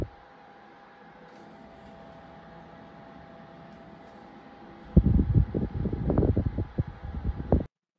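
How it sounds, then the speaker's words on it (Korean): An electric fan runs steadily with a constant whir through the whole stretch, recorded as an earphone microphone test; louder low-pitched bursts of noise break in near the end. "선풍기를 틀어놓고"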